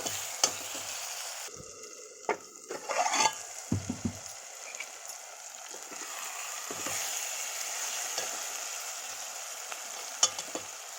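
Brinjal curry with chili powder cooking in oil in a pan, a steady soft sizzle running throughout, broken by a cluster of spoon scrapes and taps early on and a few later knocks, close and fairly quiet.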